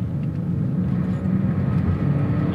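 A 2019 BMW X5 xDrive40i SUV accelerating under throttle, its engine giving a steady, dense low rumble that holds evenly throughout with no speech.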